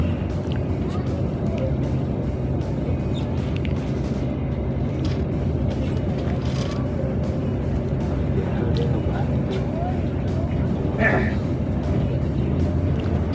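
Cars rolling off a ferry at a port, a continuous murmur of engines and passing vehicles with a low rumble, someone talking over it throughout.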